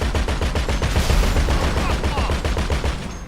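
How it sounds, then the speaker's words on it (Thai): Rapid automatic gunfire in GTA Online, a loud continuous stream of closely spaced shots that fills the moment from start to finish with no pauses. "จะลองปืนให้ดูเลยนี่ปืน"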